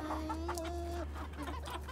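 Backyard chickens, Ameraucana and Cochin hens, clucking close by in a steady run of short calls, with one drawn-out vocalization and some low background hum.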